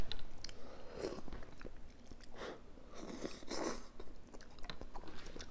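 Someone eats spicy instant ramen noodles in soup, giving close, wet chewing and slurping bites in uneven bursts with short pauses between them, and no talking.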